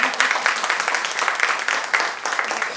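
An audience claps together at a morning world-record and book-launch celebration, a steady burst of applause lasting a few seconds at moderate distance.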